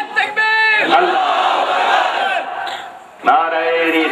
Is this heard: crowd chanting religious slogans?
yes